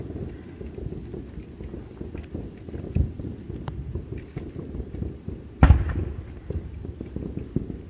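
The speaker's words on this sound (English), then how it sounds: "looking at the local fireworks, the ones the local boys are shooting off" Local fireworks go off outdoors, heard as scattered sharp pops and bangs with one louder crack near the end. They sound at varying distances over a rumbling wind-buffeted background on a Fourth of July night.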